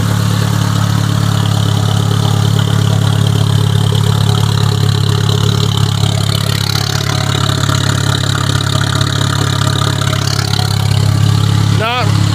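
A Mazda 626 with about 347,000 miles, fitted with a new thermostat and replacement turbo, runs on a test drive with a steady close engine drone, with a person talking over it.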